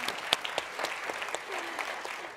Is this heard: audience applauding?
yes